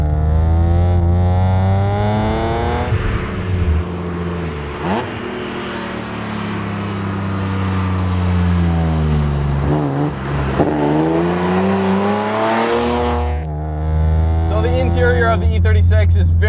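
A Euro-spec E36 BMW M3 engine revs and accelerates, its loud droning note climbing and falling through several pulls, with a brief lift between gears, heard close up with no talk.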